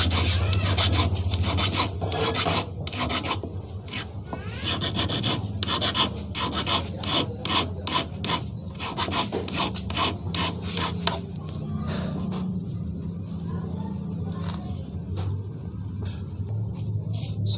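Sandpaper is rubbed over a pair of pliers being reshaped to bend fishing hooks, smoothing away file and grinding marks. The close, rhythmic rasping strokes are quick at first and slow to sparser rubs.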